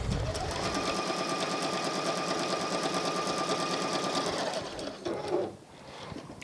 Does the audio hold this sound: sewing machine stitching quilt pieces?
yes